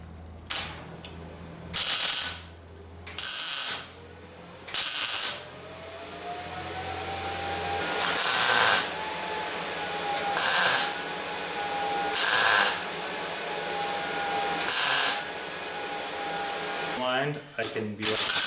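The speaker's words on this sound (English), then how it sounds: "So I'm just gonna set this where I want and tack it." A bracket is tack welded beside an aluminum radiator, with about ten short, loud, crackling arc bursts, each a second or so long, spaced by pauses, and a voice talking in the gaps.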